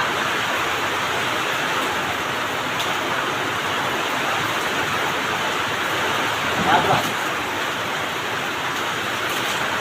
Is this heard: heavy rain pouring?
yes